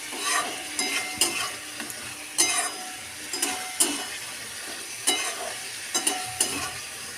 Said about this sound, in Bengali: মশলার সঙ্গে আলুটা একটু নাড়াচাড়া করে নিতে হবে